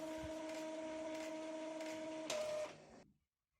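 An Epson inkjet printer cleaning its print heads after a colour failure gives a steady mechanical whir with a sustained tone, then a brief louder shift near the end before the motor winds down and stops into silence.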